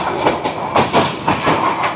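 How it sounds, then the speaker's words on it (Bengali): A train runs past at a rail crossing, close and loud, with rhythmic clickety-clack of wheels over the rail joints and rumbling carriages throughout. "ট্রেনটি চলে যায়"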